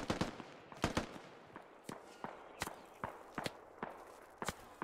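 Gunfire in the tactical shooter game Squad during a firefight in a compound, sharp single shots and short bursts cracking at irregular intervals, fairly distant and echoing.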